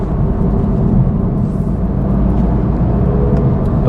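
A 2023 Toyota Supra with a manual gearbox, held around 5,000 RPM on a drive, giving a loud steady low engine drone mixed with road rumble, heard from inside the car with no speech.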